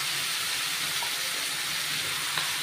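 Paneer tikka masala mixture frying in oil in a pan over low heat, a steady broad sizzling hiss throughout, close and even, with no talk.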